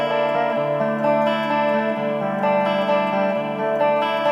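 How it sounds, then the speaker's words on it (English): Electric guitar on a clean channel running through chorus and delay pedals, sustained chords and notes with a shimmering, echoing 80s-style tone, steady and loud throughout with no talking. "And then we have the delay."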